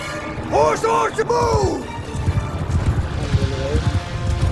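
Horse archers galloping across the battlefield in the Empire video game, a dense rolling patter of hoofbeats running steadily under shouted commands and a neighing horse early on.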